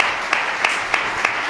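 An audience at a Freedom Day celebration at the Ángel Herrera Oria Foundation applauds Juan Carlos Girauta, a fairly faint, brief patter of clapping with a few sharper claps standing out at regular intervals.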